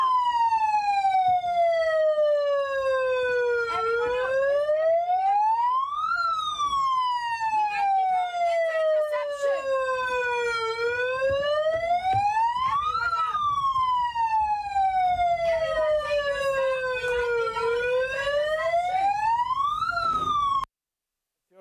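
Sirens wail from boats at sea, a loud, continuous rising-and-falling tone sweeping up and down in repeated slow cycles, close and dominant, cutting off abruptly at the end.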